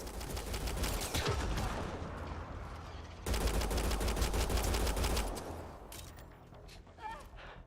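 Sustained bursts of rapid gunfire in the Mass Effect: Andromeda video game, dense and loud for several seconds before tapering off, with brief voices mixed in.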